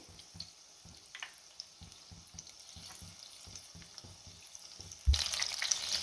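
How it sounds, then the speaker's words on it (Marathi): Paneer pakoras sizzling quietly in hot oil with faint, irregular pops and crackles, then a louder, brighter burst of frying near the end as more pieces drop in. "मी ह्याच पद्धतीने जेवढं पनीर मावेल तेवढं मी यामध्ये तेलामध्ये सोडून घेणार आहे।"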